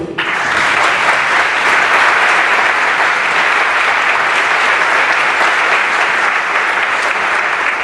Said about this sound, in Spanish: a la que dedicamos también nuestro aplauso de gratitud